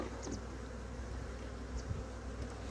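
Faint, soft buzzing from roughly fifty to a hundred honeybees crawling around hive frames behind a divider board at an apiary being prepared for winter, a low steady hum with a few brief closer buzzes.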